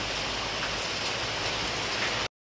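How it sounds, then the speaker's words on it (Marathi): Heavy rain pours steadily and loudly as a dense, unbroken hiss that sounds close, then cuts off abruptly near the end. "आता पावसाचा आवाज बॅकग्राऊंडला भरपूर येत असेल"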